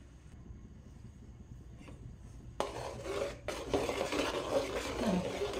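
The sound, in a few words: stirring butter in a pan to make ghee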